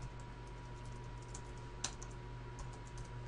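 Computer keyboard typing of a web address, a quiet run of soft key clicks with one sharper tap near the middle, over a steady low hum with no talking.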